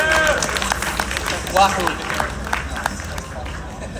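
Audience applause and cheering at a Sonic convention panel, a steady wash of clapping with voices talking and whooping over it.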